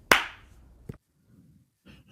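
A single sharp hand clap for a sync test, loud and close with a quick decaying tail, followed by a fainter knock and light rustle, no talk over it.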